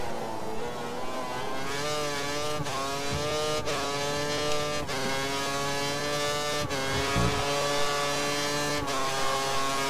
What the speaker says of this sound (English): Let's see if I'm hitting the rev limiter.